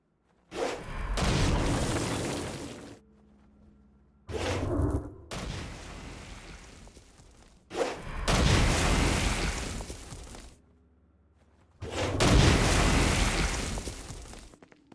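Blasts in the game Saints Row: Gat Out of Hell, used against a shielded Dark Insider: four loud booming bursts, each lasting about two to three seconds with rumbling tails, separated by short near-silent gaps.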